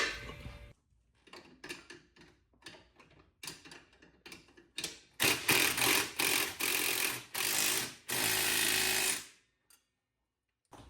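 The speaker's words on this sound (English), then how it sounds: "I'm going to tighten the bolt up." A ratchet or impact tool tightening the bolt on a 2006-2010 Dodge Charger's rear Bilstein shock, heard as rapid clicking bursts that build into loud sustained mechanical rattling before stopping abruptly.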